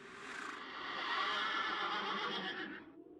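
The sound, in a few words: horse neighing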